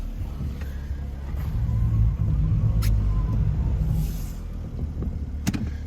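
A Smart Fortwo engine runs steadily while driving, a low rumbling hum with slight rises in revs and a few faint clicks and rattles, after a coolant temperature sensor replacement.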